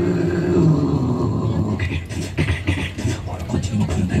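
Someone mimics a Hachiko Line diesel train running hard: a low engine drone first, then rhythmic breathy chugging bursts, close and moderately loud.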